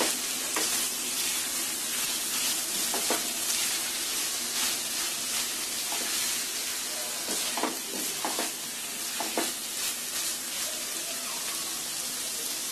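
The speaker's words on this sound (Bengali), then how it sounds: "এখন ধনিয়া পাতা কুচিটা দিয়ে আমি 1 মিনিট একটু নেড়ে চেড়ে নামিয়ে ফেলব।" Vegetable filling with chopped coriander leaves stirred in a hot pan, a steady loud sizzle throughout with scattered scraping clicks of the spatula against the pan.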